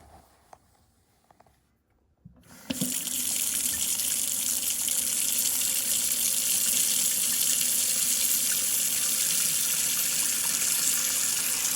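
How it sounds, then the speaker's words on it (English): Water from a tap pours steadily into a kitchen sink sealed by a Flex 2-in-1 strainer stopper, starting after a couple of seconds of quiet clinks and then running as a loud, continuous gush with no talking. "the Flex strainer holds water well and fills up quickly"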